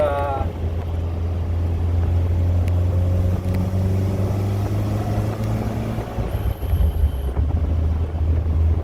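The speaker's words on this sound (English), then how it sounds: "the engine sounds really nice" A steady, loud engine drone from a 1974 Alfa Romeo runs throughout while driving, with rising and falling tonal whine as the revs change and some wind rumble.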